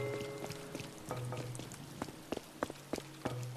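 Rain falling on an island in the video game Animal Crossing: New Horizons, a soft steady patter with scattered droplet taps, faint and alone against quiet game music tones.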